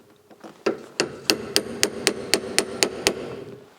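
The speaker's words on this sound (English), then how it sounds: "And I will also slightly tap it in this split here to open that up, but slightly." Light hammer taps into the split of an MGB steering rack part: about ten sharp, evenly spaced metallic knocks, close and clear, with no talking.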